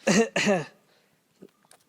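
Two quick, harsh coughs close up, one right after the other, then near silence with a few faint clicks.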